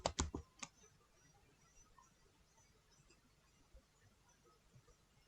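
Keys tapped on a computer keyboard while typing into a web browser, a quick burst of several close, crisp clicks at the start, then only a faint, quiet room background.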